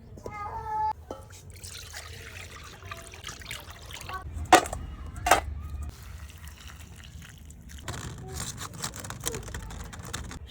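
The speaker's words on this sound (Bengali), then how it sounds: "ভালো শুটকি মাছটা আঁশগুলো ছাড়িয়ে গরম জল দিয়ে ভালো করে ধুয়ে নেব।" Dried fish is washed in hot water, with running and splashing water, intermittent trickles and a couple of sharp knocks from handling, over a low background hum.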